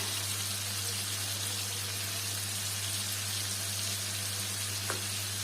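Spiced food seasoned with black pepper, salt and spices sizzles steadily in a hot pan as it is stirred, a dense continuous frying hiss with a low steady hum beneath and one brief scrape near the end, no voices.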